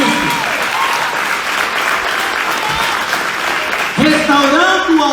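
A church service congregation applauds steadily, a dense wash of clapping that runs the whole time while a preacher's voice rises over it toward the end.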